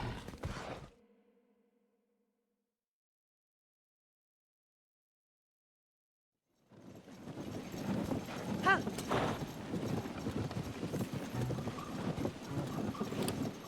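Horse hooves clip-clop in Zelda: Tears of the Kingdom, a short burst at the start, then a long silence before a steady stretch of game sound returns with hoofbeats mixed in.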